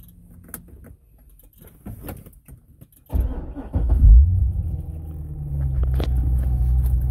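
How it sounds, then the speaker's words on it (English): A 2008 Chevrolet Corvette Z06 with a 505 hp V8 and six-speed manual cranks and fires up partway through after faint clicks and handling noises, then settles into a steady, deep, loud idle rumble. "Alright, so the car is currently running"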